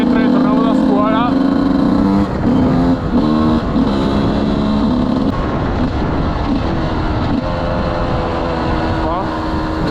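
A 125cc dirt motorcycle, GAS GAS or Sherco, with failing brakes, ridden close by: loud buzzing two-stroke engine revving up and down through gears, with a voice talking over it.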